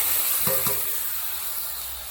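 Mustard paste sizzles in hot oil with okra in a pan, a loud, steady frying hiss close up, with a couple of soft utensil taps early on.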